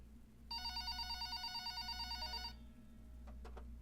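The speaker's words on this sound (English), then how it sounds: "the phone on the counter rang." A telephone on a kitchen counter gives a single quiet, buzzy electronic ring lasting about two seconds, followed by a couple of faint clicks.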